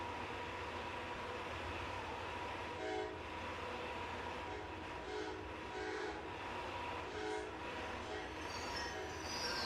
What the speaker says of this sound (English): I do see a train is approaching towards our way.